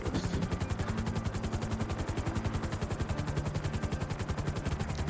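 Rapid automatic assault-rifle fire in GTA V, a dense continuous burst of evenly spaced shots running loud and steady through the whole stretch, with no talk over it.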